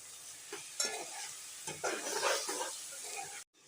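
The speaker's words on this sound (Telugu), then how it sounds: "ఒక ఆ టమాటా ముక్కల్ని సన్నగా కట్ చేసుకొని వేసుకోవాలి కలుపుకోవాలి" Finely chopped tomato pieces stirred into frying cabbage in a pan, giving a few scraping, stirring strokes over a soft steady sizzle, close by and moderately loud.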